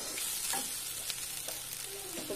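Fried shrimp and potato are stirred in a hot pan, a steady loud sizzle with scraping strokes of the spoon and no voices.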